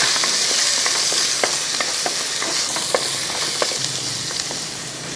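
Green chillies and ginger fry in a pan for planji fish curry, giving a loud, continuous hissing sizzle punctuated by quick, evenly spaced stirring clicks and scrapes.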